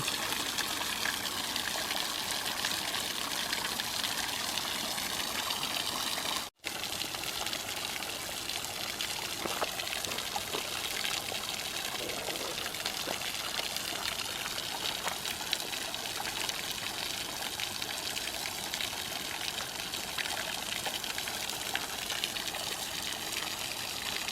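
Drinking water pours steadily from a spring in Sweden, a continuous close rushing and splashing that runs unbroken for the whole stretch apart from one instant dropout.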